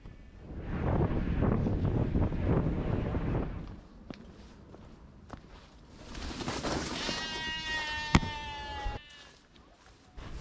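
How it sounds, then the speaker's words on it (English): Sheep in a Kent countryside field give a few bleats in the second half, after a stretch of gusty wind rumble on the microphone, with faint rustling between calls. "you also have to dodge a few sheep in the field"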